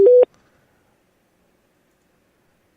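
A phone call fails to connect, giving a single short, loud busy-signal tone that cuts off abruptly and leaves near silence.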